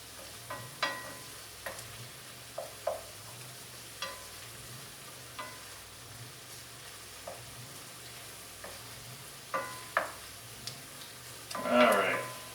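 Lobster mac and cheese sizzles softly in a pan while a utensil scrapes and stirs in short, irregular strokes, with a louder clatter near the end. The sound is faint and close, and no one talks.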